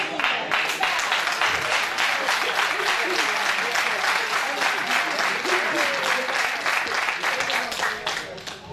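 Dense, steady applause from a crowd at a 2015 Christmas party after a song in Portuguese, a continuous sustained roar of many hands that stays loud throughout and tapers slightly at the end.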